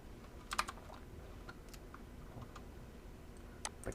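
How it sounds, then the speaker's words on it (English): A few scattered keystrokes on a computer keyboard while entering values in Mathematica, with small clusters of clicks near the start and end over a quiet background hum. "You can actually even type things in here."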